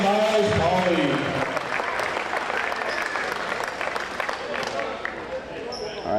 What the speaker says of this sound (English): Please give us a big round of applause for our honorary coaches of the game, Campbell Marsh and Miles